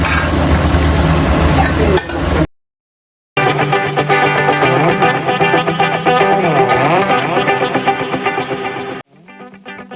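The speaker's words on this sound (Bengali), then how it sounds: "ঢেঁড়সটা এরকম তেলের মধ্যে মরিচ পেঁয়াজ কষাইয়ে, মরিচ পেঁয়াজ হলুদ মরিচ জিরা, তারপরে ঢেঁড়স কষাই" Okra frying in oil with chili, onion, turmeric and cumin, a loud close sizzle with utensil clinks and stirring, broken by a brief silent gap and cutting off near the end.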